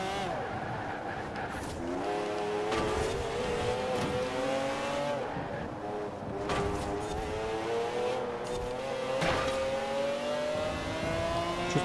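A Porsche sports car engine in Forza Horizon 4 revs and climbs through gears, its pitch rising and dropping with each shift, loud and close, with occasional tire noise.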